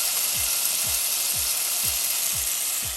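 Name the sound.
green seasoning sizzling as it is sauteed in olive oil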